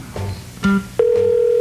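A telephone rings on a 1982 television game show as a contestant is called, a loud steady electronic ring tone starting partway through after a few short clicks and tones.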